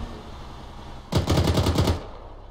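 A burst of rapid automatic gunfire in the military shooter ArmA 3, several quick shots rattling off in a tight rhythm for under a second, loud and close, with no talk over it.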